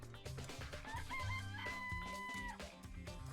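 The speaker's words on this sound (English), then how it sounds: "let's check up on these chickens, okay?" Chicken calls in the video game Danganronpa: Trigger Happy Havoc, heard as a rooster-like crowing and clucking that rises and holds over a steady, busy game soundtrack for a few seconds.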